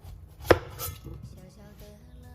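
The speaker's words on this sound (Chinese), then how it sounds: "给它切成小段儿" A knife cuts a washed, unpeeled luffa gourd into short pieces on a board, making one sharp, close chop with a softer follow-up knock in a quiet kitchen.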